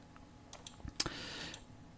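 A few quiet, scattered keystrokes on a computer keyboard, soft clicks with one sharper tap in the middle and no voices.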